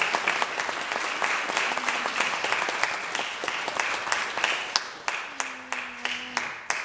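A festival crowd at a music and spirituality gathering applauds the headline artist with steady, dense clapping that stays loud throughout, thinning slightly toward the end, with a faint voice briefly audible beneath.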